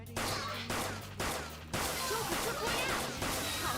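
Gunfire from the video game Persona 5 Royal, a dense run of loud, crashing shots that starts again in quick bursts over about four seconds.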